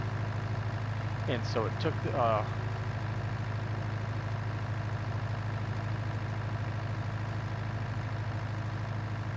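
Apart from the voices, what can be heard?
mowing machine engine in video game Farming Simulator 19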